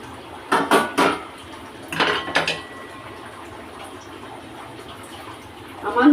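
A lid is lifted off a cooking pan, giving a few close metallic clatters and clinks followed by quieter rattles, with a soft background hum in between.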